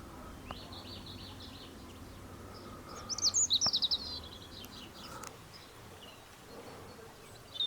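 A rusty-cheeked scimitar babbler calls in a quiet forest near Silery Gaon, Rishyap and Kolakham, a single brief burst of rapid chirps, faint and somewhat distant, against soft insect-like ambience.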